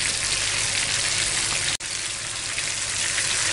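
Chicken chaap pieces frying in refined oil in a pan, a loud continuous crackling sizzle with a brief dropout midway, no voices.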